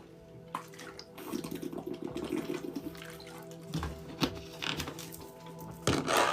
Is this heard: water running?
yes